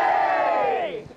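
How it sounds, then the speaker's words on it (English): A crowd gathered for a tall ship in Scotland shouts a single long, rising-then-falling "hooray" in unison, loud and close, fading out as the cheer ends. "Three cheers for the Christian Radek. Hip hip. Hooray!"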